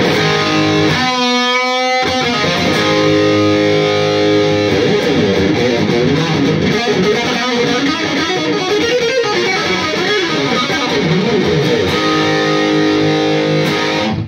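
Distorted electric guitar through reverb and a noise gate, playing sustained heavy chords and riffs loudly and steadily, with a brief gated gap early on and no voices.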